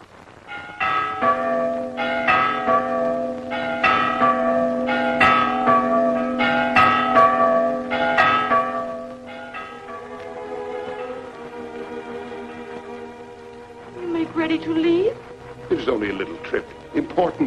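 Church bells ring in a steady repeating peal over a sustained tone, which then fades out and gives way to voices talking.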